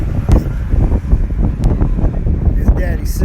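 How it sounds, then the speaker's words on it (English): Strong outdoor wind buffets the microphone with loud low rumbling gusts throughout, beside a pickup truck and trailer. "it's pretty windy out here"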